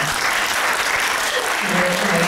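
An audience at a university book forum breaks into dense, continuous applause, loud and sustained throughout with a faint voice or two underneath.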